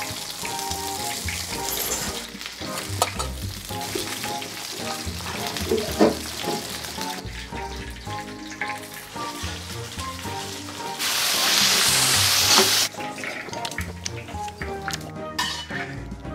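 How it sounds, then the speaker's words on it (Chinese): Fish frying in oil in a big wok, a continuous sizzle mixed with clinks and scrapes of utensils against the pan, swelling into a louder hiss near the end. "把鱼放下去煎"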